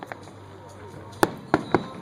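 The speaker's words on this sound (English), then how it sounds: "They've got some new colors I haven't seen before. That yellow and that Yeah. some nice fireworks." Fireworks in a finale display burst in sharp distant pops, one at about a second in and then three louder bangs close together near the end, over a faint background of crowd murmur.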